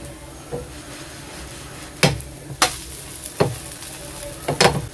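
Onion dosa batter sizzles softly on a hot pan, broken by several sharp scrapes and clinks of a utensil against the pan, with no talking.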